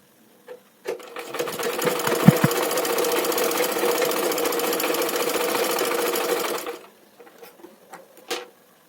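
A sewing machine runs steadily for about six seconds, stitching a half-inch seam along the folded edge of a blouse lining. A few soft handling taps come before and after the continuous whirring run.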